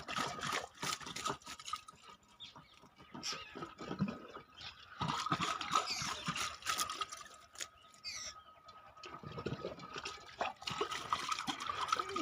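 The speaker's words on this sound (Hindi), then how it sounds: "तो चलिए यहाँ पर हम पहले पानी का छिड़काव कर देते हैं।" Water is sprayed over a heap of cow dung being prepared for vermicompost outdoors, a steady hissing, pattering spray with drips that comes and goes in bursts, close and without speech.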